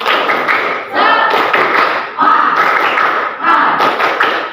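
A school class performs tepuk semangat, a rhythmic spirit clap, with loud, close group clapping in three bursts of sharp claps and short pauses between them, plus some voices mixed in.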